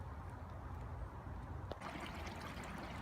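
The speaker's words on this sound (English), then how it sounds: "I don't know if you can hear the little running water." A small stream trickles and runs over its bed in a park in spring, a faint, steady babble of water heard from nearby with no voices.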